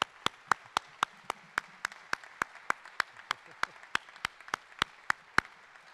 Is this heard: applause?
yes